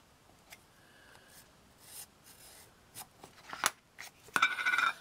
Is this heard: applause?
no